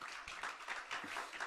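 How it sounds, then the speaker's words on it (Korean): Brief applause from a church congregation, several soft claps close together over a quiet room, short and fairly faint. "박수 한번 쳐주시겠어요?"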